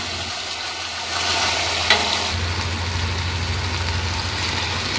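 Basmati rice being stirred in a pot with frying onion and tomato, a steady sizzle with scraping stir sounds over a low continuous hum, fairly close and with no talking.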